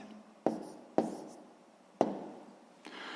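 Writing on a classroom board during a sixth-grade maths lesson: a few distinct tapping strokes, each followed by a short scratchy trail, sounding close and fairly quiet.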